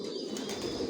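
Adult racing pigeons in a loft make soft, close fluttering and faint cooing sounds during a brief, continuous moment.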